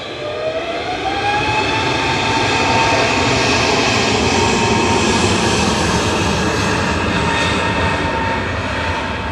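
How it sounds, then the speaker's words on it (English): EasyJet airliner taking off from Manchester Airport for Corfu, a loud continuous engine roar with a rising whine, swelling slightly mid-clip, with no voices. "EasyJet departed in front of us now to Corfu with flight 2061."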